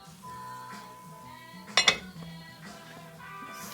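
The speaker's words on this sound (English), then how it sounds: "All right, it's time to turn our rice." A spoon turning cooking Spanish rice (arroz con gandules) in a pot gives a brief cluster of metallic clinks and scrapes against the pot, over a low steady hum from the stove.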